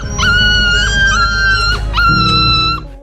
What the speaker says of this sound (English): a mother dog is captioned wailing for her puppy